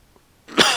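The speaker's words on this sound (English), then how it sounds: "I'm coughing and shit." A single harsh cough, close and sudden after a brief near-silence.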